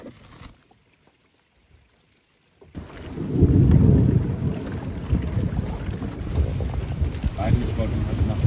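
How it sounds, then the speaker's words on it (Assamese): A thunderstorm with drizzling rain at night on a fishing trip: after near silence, a low rumble of thunder builds and rolls on steadily, mixed with rain patter and wind buffeting the microphone. "বিজুলী মাৰিছে বৰষুণো আহিছে চিপচিপকৈ"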